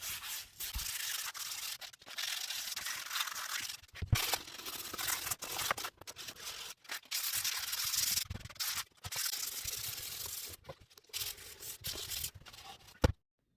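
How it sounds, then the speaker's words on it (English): Hand sanding varnished boat wood with 240 grit sandpaper: steady rasping back-and-forth strokes, close and loud, broken by short pauses between passes. "I did sand them with some light sandpaper, 240, to not go too deep"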